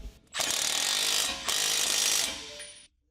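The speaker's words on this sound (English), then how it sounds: "Use a large 21 mm deep socket with the torque wrench. Torque the outer tie rod nut to 74 Nm." A torque wrench on a 21 mm deep socket ratchets the outer tie rod nut on a 2013 Jeep Wrangler, giving two close, dense clicking runs with a brief pause between, then stopping.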